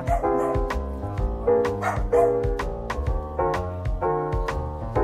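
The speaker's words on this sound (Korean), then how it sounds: "옆에 강아지 친구도 짖는 걸 보니 콩순이 미모에 반했나 봐요" A small dog at a pet grooming salon yips and barks in repeated short bursts over steady background music.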